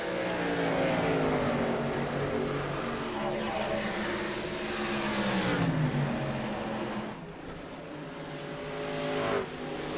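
Race trucks scream around Darlington in a racing video game, a loud continuous engine drone with shifting, rising and falling pitch as several trucks pass and accelerate, briefly dipping near the end.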